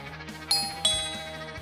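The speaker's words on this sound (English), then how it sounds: "There was a slightly uneasy atmosphere in the air when the doorbell rang." A doorbell rings with two bright chime strikes in quick succession, each tone ringing out and decaying cleanly over a quiet background.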